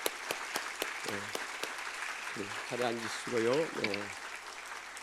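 Applause welcomes visiting pastors and a short-term mission team at a Friday church service, a steady wash of clapping running under someone speaking into a microphone.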